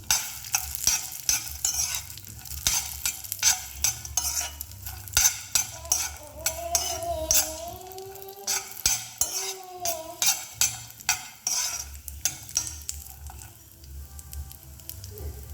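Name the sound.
cashews frying in a pan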